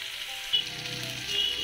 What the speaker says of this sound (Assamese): এইখিনি অলপ সময় ভাজি ল'ম